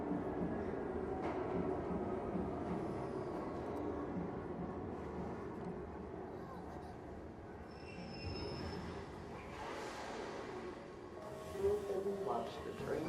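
A video-game train car rumbles steadily along with metallic squeals and clatter, a dense continuous mechanical roar throughout, in Arc Raiders.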